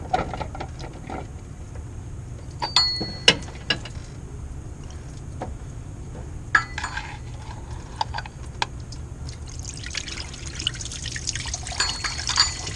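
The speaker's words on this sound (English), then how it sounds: "you can let it sit there and drip on its own until it stops" Coolant drips and trickles from a removed water pump on a 2005 Honda Odyssey 3.5L, a series of small irregular taps and splashes close by, with faint handling clicks and no talk.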